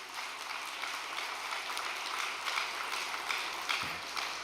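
Applause from an audience at an award ceremony during a fishing retreat, a steady wash of clapping held at moderate loudness across the whole stretch without pause.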